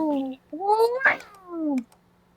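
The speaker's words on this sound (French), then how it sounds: "Oh, le gros chat." A large cat gives two drawn-out, rising and falling meows, loud and close. A short sharp burst cuts into the first meow, and a gap of silence separates the two calls.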